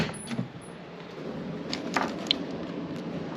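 Car keys for a 2009 Toyota Camry jangle in a few brief metallic clinks, close and soft over low background noise.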